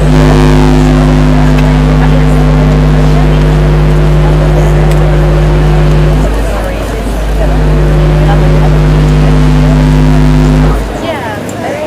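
Heavy, steady low hum and drone of a boat engine vibrating into a microphone at an outdoor waterfront event, loud and continuous with a brief dip midway before resuming, then dropping off near the end.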